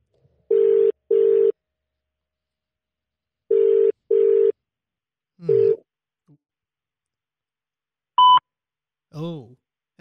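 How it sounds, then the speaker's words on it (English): A telephone ringback tone sounds twice in paired bursts with a long gap between, followed by a short beep and brief voice sounds. "Oh, it's ringing."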